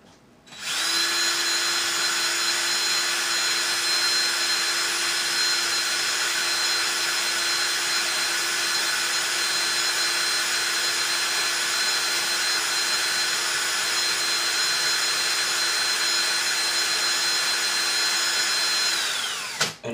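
A power drill runs steadily for about eighteen seconds, twisting wire strands together for vape coils, its motor whine loud, close and unbroken from a quick spin-up to a sudden stop.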